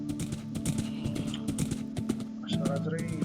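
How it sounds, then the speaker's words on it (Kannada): Clip-clop of a horse's hooves while riding in Minecraft, quick rhythmic thuds repeating close and clear, mixed with light keyboard clicks and a person talking over them. "ಬನ್ನಿ ಕುದುರೆ ಸವಾರಿ ಮಾಡೋದು ಇವತ್ತು."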